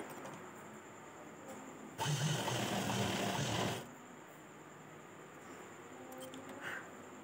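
A sewing machine runs a double stitch on an A-line cut nighty in one loud, close burst of about two seconds, standing out against a quiet room.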